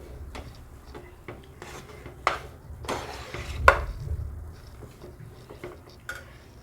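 Bread halwa being stirred in a pan, a spoon scraping and tapping against metal in irregular strokes, with a few sharper clinks, close and fairly quiet with no talk.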